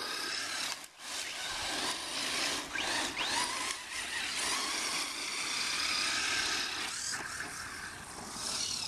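An Exceed Rally Monster Pro RC truck runs over rough ground near mud, giving a continuous gritty, scraping rush that briefly drops out near the start and swells again toward the end.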